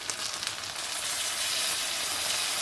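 Okra cooking in a vessel over a medium flame gives a steady, close sizzling hiss that builds slightly and holds evenly, with no voices.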